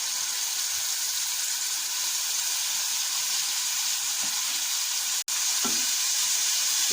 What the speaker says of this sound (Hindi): ऑयल गरम हो गया, अब इसमें प्याज ऐड करेंगे।